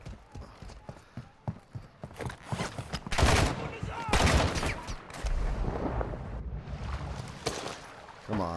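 Gunfire in the video game Call of Duty, a series of sharp shots and bursts that grows into dense, sustained firing, with a voice briefly talking over the battle noise.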